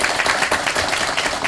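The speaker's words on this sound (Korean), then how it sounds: "박수 한번 해주십시오." Steady applause from an audience at a public ceremony in Uiseong County, a dense wash of clapping with no gaps, moderately loud and continuous throughout.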